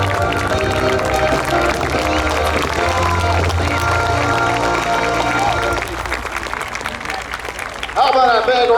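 After the North Star Drone show closes an airshow marking the RCAF's 100th anniversary, a crowd claps and cheers over loud music that fades out, and then a voice comes in near the end.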